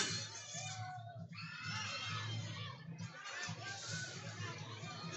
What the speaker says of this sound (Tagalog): 1, 2, sumigaw muna kayo! Sigaw!